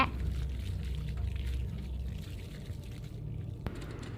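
In the video game Baby in Yellow, water is poured onto plants, a continuous close splashing trickle that thins out toward the end and is capped by a brief click.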